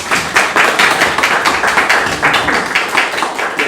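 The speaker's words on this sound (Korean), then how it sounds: "예, 큰 박수로 맞아주십니다." Applause at an academic society conference welcoming the society president, a loud, dense burst of many hands clapping steadily throughout, with no voices over it.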